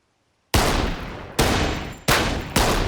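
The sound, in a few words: rapid gunshots fired at target practice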